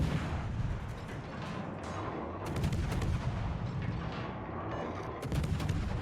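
Ship guns fire at a destroyer in a naval battle video game, with repeated booming salvos and sharp bursts of gunfire over a rumbling background, no voices.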